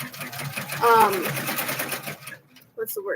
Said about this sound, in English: it's going to stitch the windows